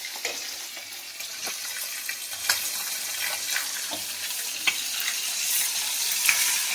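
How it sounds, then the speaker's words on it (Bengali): Hilsa fish fries in hot oil in a pan, giving a continuous close sizzling hiss dotted with sharp pops and crackles throughout. "ইলিশ মাছটা ভাজছি,"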